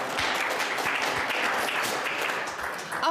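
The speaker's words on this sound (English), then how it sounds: "She loves that applause too, gotta give it." Audience at a Safe Streets staff meeting applauds as the director is welcomed; a loud, close, continuous burst of many hands clapping that tapers slightly near the end, with no speech over it.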